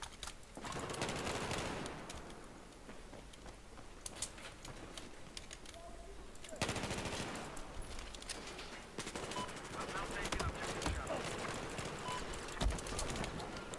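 Rapid video-game gunfire crackles in dense automatic bursts with short pauses, fairly faint and steady over the whole stretch.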